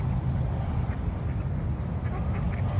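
A mother duck quacks steadily outdoors, the calls close and moderately loud over a constant low rumble of background noise, with no talking.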